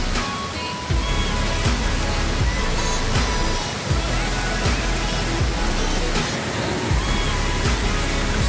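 Batlag Falls pours steadily in a loud, dense roar of rushing water that fills the whole stretch without a break, up close and continuous.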